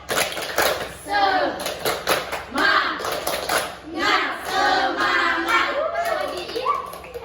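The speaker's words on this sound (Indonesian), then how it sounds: "Ayo kita tepuk semangat dulu." A class of seventh-grade students claps in rhythmic bursts for a group spirit clap during a school counseling session, the claps coming in several close, loud rounds mixed with children's voices chanting along.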